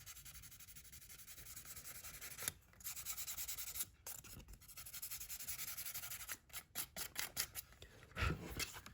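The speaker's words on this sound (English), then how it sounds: "I'm gonna finish that up with 1000 grit sandpaper." Fine 1000-grit sandpaper rubbed over a handmade leather wallet, a steady close scratchy hiss running in long strokes with a few brief pauses and a short burst of louder rubbing near the end.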